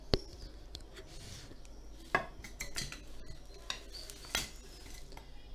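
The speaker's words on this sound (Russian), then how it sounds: "Вот таким образом я выкладываю наши кабачки сюда." Light clinks and scrapes of utensils and dishware as fried zucchini slices are laid into a baking dish for a casserole, a few sharp taps over a quiet kitchen background.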